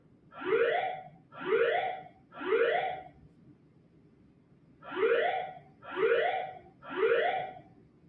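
A building fire alarm sounds nearby in two bursts of three rising whooping tones, with an even rhythm and a pause between the groups.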